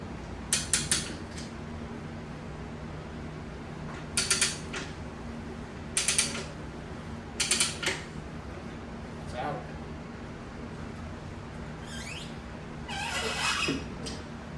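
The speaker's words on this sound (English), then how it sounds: "Now here's where we ratchet." A Rabaconda tire changer ratcheting on the rear tire of a 2019 Harley Road Glide, several short clustered clicking bursts spaced a second or two apart over a steady background hum, with someone talking between them.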